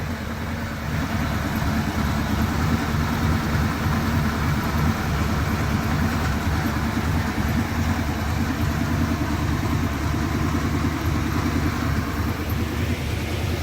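A houseboat engine runs steadily after repairs, a continuous low mechanical drone that stays loud and even throughout with no talk over it.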